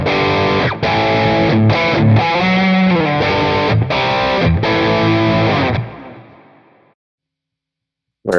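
High-gain Amalgam Tone King capture on a Quad Cortex carries loud, heavily distorted electric guitar chords, with brief gaps between strums, before the sound dies away into silence and ends on a short click.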